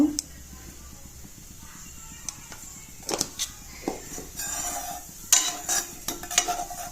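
Turmeric sizzles in hot mustard oil in a pan while a utensil stirs it, producing a low hiss broken by several sharp scrapes and knocks against the metal.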